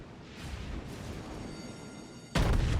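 A North Carolina battleship fires a main-gun salvo in World of Warships during a ranked naval battle. The boom comes in late and sounds loud and abrupt against a quieter background.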